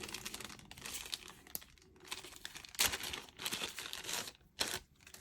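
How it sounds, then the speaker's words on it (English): An anti-static embossing tool is rubbed over patterned craft paper, giving soft, close crinkling and scuffing strokes in irregular bursts with brief pauses between them. "And we're just going to rub this all over the paper."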